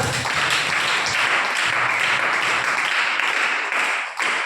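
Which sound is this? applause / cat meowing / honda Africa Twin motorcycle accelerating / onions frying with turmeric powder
applause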